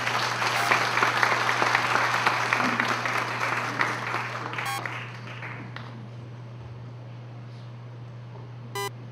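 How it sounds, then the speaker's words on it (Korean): Congregation at the opening worship service of a national pastors' summer seminar claps in welcome, the dense applause fading out by midway, leaving a steady low hum and a few sharp electronic beeps. "박수로 환영해 주십시오"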